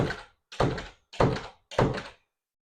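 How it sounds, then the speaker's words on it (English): A house door that doesn't latch properly is pushed shut four times in a row, each a dull, close thunk about half a second apart that rings briefly and then goes silent. "We also came across this door that doesn't latch properly."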